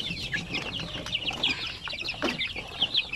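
Shamo chicks cheeping and clucking continuously in a close, busy chorus of high, overlapping chirps, with no talk.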